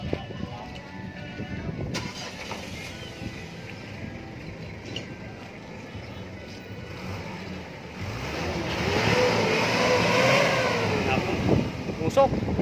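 A smoky vehicle engine is revved to about 3,500 RPM. A low, rumbling running sound swells into a louder, broader roar in the last few seconds, with a voice heard over the engine.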